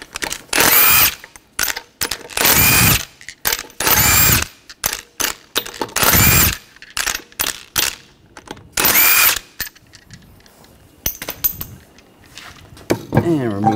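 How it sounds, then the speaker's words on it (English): A power tool with a 19mm socket removes lug nuts from a Ford Escape wheel, several loud, sharp ratcheting bursts of about a second each separated by short pauses, close up. "We're going to remove the lug nuts, use a 19mm socket."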